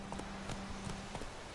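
Horse hooves clip-clop in the fantasy role-playing video game The Witcher 3: Wild Hunt, a brisk, regular run of close hoof beats over a constant ambient bed of game sound.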